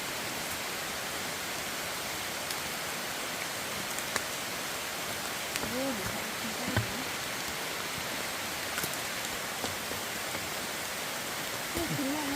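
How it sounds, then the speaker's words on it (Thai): Rain pours steadily in a mountain forest, a soft, even hiss of drops on leaves and ground, with faint, brief voices and small knocks now and then. "โอ้ฝนตกไม่หยุดเลยใช่"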